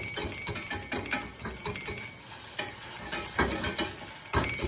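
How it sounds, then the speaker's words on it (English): A small whisk chops and scrapes through thick flour-and-cream gravy in a pan, making rapid, irregular clacks and scrapes up close with a faint sizzle underneath. No one speaks. "So I just kind of chop at it with my little whisk and stuff."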